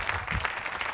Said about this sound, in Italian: Applausone per Alessia, grazie.